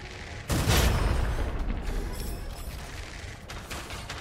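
Rapid gunfire in the shooter game Gunfire Reborn, a sharp loud burst opening the clip and rolling into a sustained clatter of fast shots that fades, with another burst near the end.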